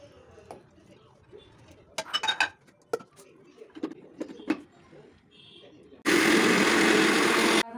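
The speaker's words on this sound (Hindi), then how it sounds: "तो अभी मैं सबसे पहले ग्राइंड कर रही हूँ लहसुन को" An electric mixer grinder grinds garlic in a home kitchen, starting abruptly as a loud, steady high-pitched whir after several seconds of soft clinks of dishes and utensils.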